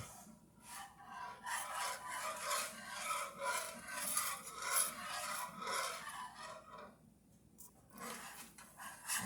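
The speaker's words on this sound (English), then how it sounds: "And we just stir and keep stirring." Sausage gravy being stirred in a pan, a steady scraping and rubbing rasp that keeps going with brief pauses, close and moderately loud with no talking.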